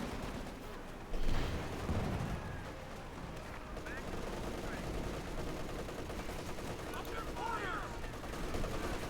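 Heavy machine gun fire rattles amid a busy Company of Heroes 2 battle, distant bursts and explosions under a caster's continuous commentary.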